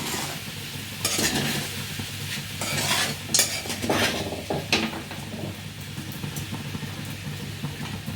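Sabudana khichdi roasting in a pan with a steady low sizzle and repeated scraping stirs of a spoon against the metal, close and fairly loud, with no voices.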